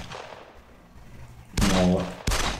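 Two loud bursts of gunfire from the video game 13 Days in Hell, each a dense, booming volley, the second cut short, after a stretch of quiet background noise.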